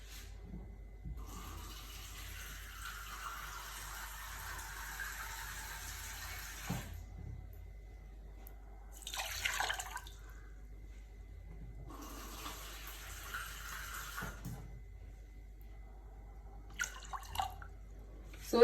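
Water poured into a pot for cucumber pickling brine in a home kitchen, coming in three separate quiet streams of a few seconds each with pauses between them.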